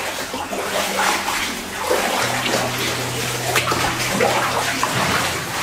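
Clear water runs steadily through an old uranium mine tunnel, a continuous hiss and gurgle that stays close and fairly loud, with a low hum underneath.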